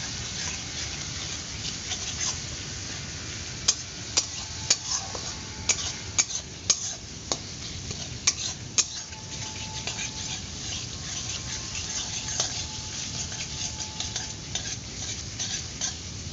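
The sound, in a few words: stir-frying onion, ginger and garlic in a pan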